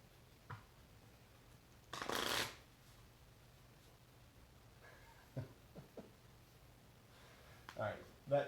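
Playing cards being shuffled during a tabletop card game session, a loud dense riffle burst lasting about half a second, followed by a few softer card handling taps and quiet talk nearby.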